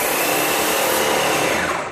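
An airless paint sprayer runs with a loud, steady broadband hiss and motor hum, close and continuous without pause.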